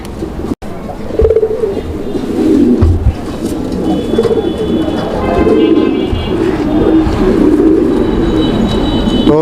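Pigeons coo repeatedly in low, throaty bursts close by, with a soft rumble of background noise.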